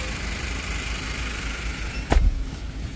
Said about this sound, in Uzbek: Mashina ishlab turibdi. Ovozlarni eshitib turganinglar